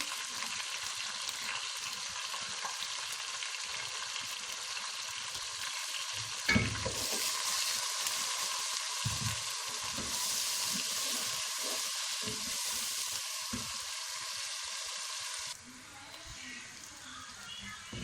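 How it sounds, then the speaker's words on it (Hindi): Chicken pieces for Swati chicken korma fry in a pan, with a loud continuous sizzle broken by bursts of stirring and a brief splash of water near the end. "इसको हम अच्छी तरह फ्राई कर लेंगे।"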